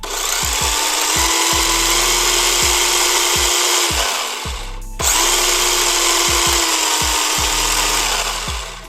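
A radio-controlled mini drift car's electric motor whines at full throttle in two long, loud, steady runs with a rising tone, separated by a short dip, with rhythmic thumping underneath.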